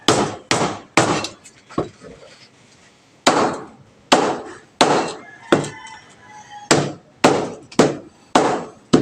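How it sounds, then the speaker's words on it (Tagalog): A sharp machete chops through pork bones in a series of loud, hard strikes, some in quick pairs, each with a cracking thud and short ring, with a brief pause between the groups of blows. "kailangan po dito matalas yung ating panaga."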